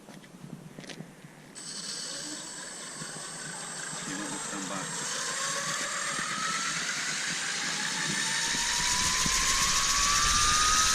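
A gyrocopter engine starts after a brief clatter, then builds from a steady drone into a rising, louder roar as the rotor spins up in a pre-rotate test outdoors, with the pitch climbing toward the end.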